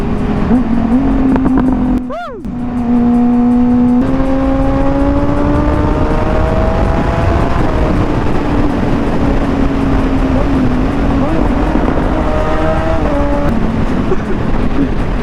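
A modified Honda CBR600RR sport motorcycle engine revs hard and holds a high, climbing whine at full throttle, close by and continuous for the whole stretch.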